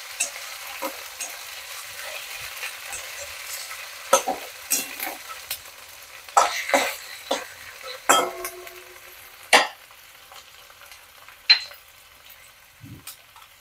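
Spice paste and half a tomato being sautéed with ginger in a pan for fenugreek greens, a soft steady sizzle under scattered scraping spatula strokes and a few clinks, growing busier toward the middle, with no talking.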